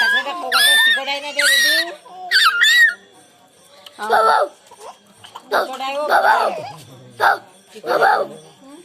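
A voice imitates a dog, producing a series of yips, whimpers and barking sounds in short bursts, with high squeaky calls and pauses between them.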